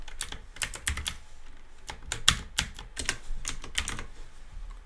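Close, quick typing on a computer keyboard: irregular runs of crisp key clicks with brief pauses and a few harder key strikes, heard alone without speech.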